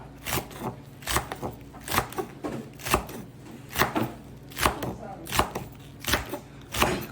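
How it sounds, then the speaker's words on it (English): Rhythmic knife strokes chop scallions on a cutting board, about a dozen sharp, evenly spaced taps heard close and alone, with no talking. "We're gonna cut up some scallions here."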